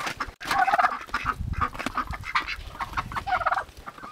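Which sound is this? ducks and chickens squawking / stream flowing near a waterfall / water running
ducks and chickens squawking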